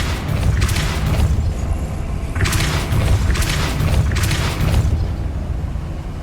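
Depulso spell cast in Hogwarts Legacy, inside the Final Repository: a steady rumbling drone with several bright whooshing bursts that swell and fade, loud and continuous, with no voices.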